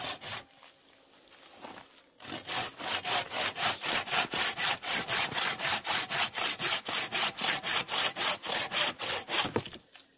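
Hand saw cutting through firewood branches: steady rhythmic back-and-forth rasping strokes, close and loud, after a short quiet start, with no talking.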